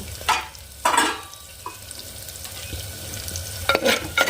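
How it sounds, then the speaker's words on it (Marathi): Oil sizzles softly in a pan as onion is stirred in a tempering with turmeric and chili, with a few sharp scraping bursts and brief crackles; no one speaks. "म्हणून मी तो फोडणीत कांदा घेतला"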